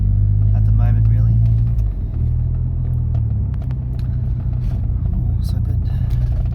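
Traffic rumbles along a busy street heard from inside a Mk4 Volkswagen GTI, a steady low engine and road drone with vehicles going by, while someone talks over it throughout.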